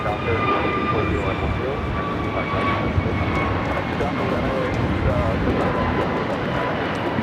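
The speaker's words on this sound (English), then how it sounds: "This is American Airlines 1711 taking off to Reagan, Washington National on the A321neo" An American Airlines Airbus A321neo takes off at LAX, its steady, loud jet engine roar filling the scene with a constant broadband rumble and faint whine, while a person talks over it.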